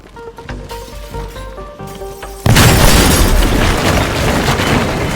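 A nitroglycerin blast in the game Teardown erupts halfway through as a loud, sudden boom with crashing debris that roars on, following quieter in-game clatter and tones.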